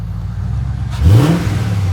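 A car engine with an aftermarket exhaust idles with a low burble, then revs sharply once about halfway through and settles back into a rumbling idle, heard close up.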